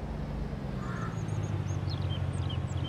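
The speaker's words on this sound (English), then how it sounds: "the birds are singing, the crows are crowing" Spring birdsong in the Farming Simulator 22 farm game: scattered high chirps and calls, fairly faint, over a steady low engine-like hum with no talking.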